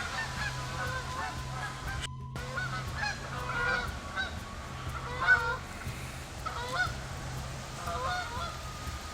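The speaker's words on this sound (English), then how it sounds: "Just geese." A flock of geese honking repeatedly outdoors at moderate distance, overlapping calls rising and falling over a steady low hum with no talking.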